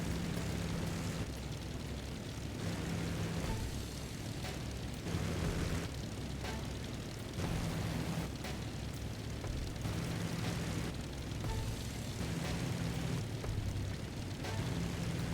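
Steady droning piston engines of Spitfire and Mosquito aircraft in a British-themed flight video game, a continuous near hum with a pulsing rhythm every second or so and no voices.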